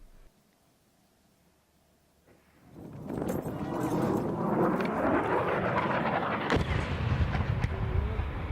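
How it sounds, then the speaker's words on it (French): Near silence gives way to a swelling, roaring rush of fighter jets passing low overhead, loud and sustained with sharp bangs near the end. "nous entendons distinctement des avions de chasse survoler la zone"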